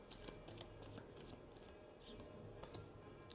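Tarot cards are shuffled up close, giving quick, light papery riffles and flicks in an irregular rhythm, quiet and alone.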